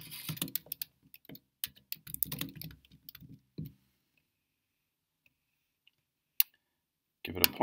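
Computer keyboard typing while entering an assignment name in Canvas: bursts of light, rapid key clicks in the first few seconds, then near silence with a single click, before more keystrokes near the end.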